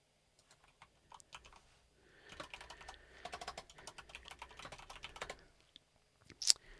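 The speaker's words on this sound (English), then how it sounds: "Let me send the GGs over to Naveed again." Quick bursts of computer keyboard typing as a chat message goes out during a Warsaken game session, soft clicks building into a steady flurry and then a louder clack near the end, with no talking.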